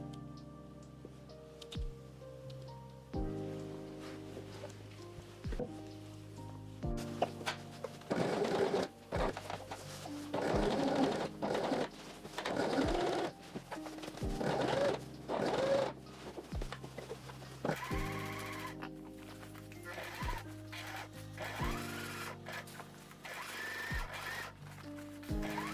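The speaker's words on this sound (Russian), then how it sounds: "Сейчас я буду делать строчку здесь, по всей окружности сумки" A sewing machine stitches a seam around the rim of a velvet bag, running in bursts of mechanical whirring and ticking against a steady tonal backdrop.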